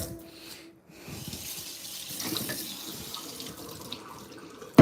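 Kitchen tap water running into a sink while bowls are rinsed during cooking, a steady close splashing gush with a brief break near the start, no talk.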